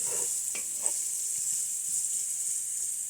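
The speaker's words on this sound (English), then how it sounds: "As you can see, everything is sizzling nicely." Food sizzles steadily in a hot pan, a continuous bright hiss with a few faint clicks and taps scattered through it.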